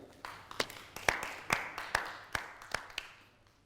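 A small audience claps for the musicians on a TV entertainment show, sounding sparse and irregular. About ten distinct claps ring out fairly close, with uneven gaps between them and no full roar building.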